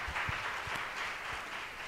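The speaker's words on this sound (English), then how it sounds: "Give her a very big round of applause." Soft, distant applause from a seminar audience after a presentation on resilient agriculture, a steady wash of clapping with a few closer claps standing out.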